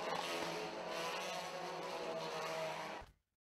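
TCR touring race cars at the 2016 Guia Race in Macau roar continuously at high revs, a loud dense engine wail held for about three seconds before cutting off abruptly into silence.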